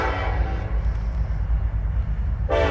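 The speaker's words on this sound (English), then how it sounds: "got a northbound train getting ready to roll through here. Canadian National." A northbound Canadian National freight train approaching, with heavy low rumbling and a loud horn blast at the start and again at the end.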